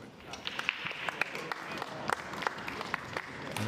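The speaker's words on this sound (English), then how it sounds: "There's the round of applause anyway" Light audience applause breaks out after a shot in a US Open Pool Championship match, soft scattered clapping running under a commentator's voice.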